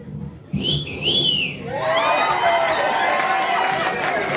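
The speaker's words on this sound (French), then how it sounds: "Whistle that whistle." A shrill whistle sounds in rising and falling blasts at a wedding, then a crowd shouts and cheers loudly over it.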